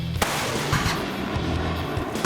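Soviet-era 152 mm rocket artillery fires in a few sharp booming blasts, with a ragged rumble and crackle of discharge rolling between them.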